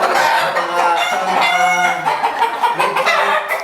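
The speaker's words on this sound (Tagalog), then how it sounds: "Sobrang gandang manok talaga yan." A prized rooster with striking coloring clucks and crows loudly and close, in a continuous run of harmonic calls and chattering clucks with no voices over it.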